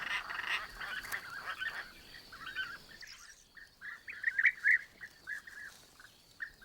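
Roller birds call near their excavated nest chambers early in the breeding season, giving harsh, rasping croaks repeated in an irregular series, moderately close over a steady background of other outdoor calls.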